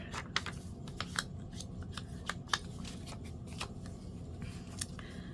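Scissors snip through paper while a craft tag is trimmed, a series of crisp, close cuts scattered across a quiet background.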